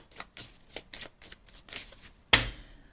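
Tarot cards shuffled by hand in a quick series of soft riffling bursts, followed by one sharp slap as the deck is cut, close and clear with no talking.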